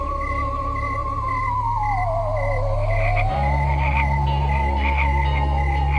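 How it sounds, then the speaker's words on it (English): Frogs croaking in a nightly chorus by a river: a loud, close, continuous trilling drone with a sweeping tone that dips and rises, plus a deep low hum underneath and no talking. "when the frogs begin their nightly chorus"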